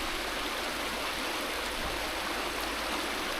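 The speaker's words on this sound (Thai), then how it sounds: "เพื่อนๆตรงนี้ก็จะเป็นลำธารจ้ะ" A forest stream flows steadily nearby, a continuous dense rushing and babbling of water with no talk over it.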